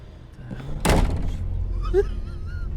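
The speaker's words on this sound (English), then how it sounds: "The door slammed behind me, and it kind of scared me a little bit" A door slams shut behind someone indoors: a single loud, sharp bang that rings briefly and then gives way to a low room rumble.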